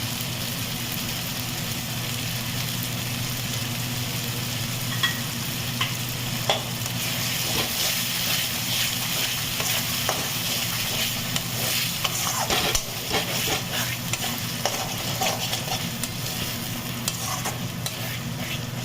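Chicken masala frying in a pan for chicken kosha, a steady close sizzle with spoon scraping and stirring the spices, occasional clinks, no talk.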